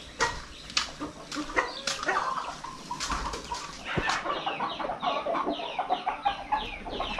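Chickens cluck and squawk close by on a farm, busy overlapping calls with a sharp knock midway and no clear talk.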